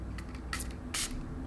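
Two short bursts of fine makeup setting spray misting from a bottle, the second longer and stronger, over a low steady background hum.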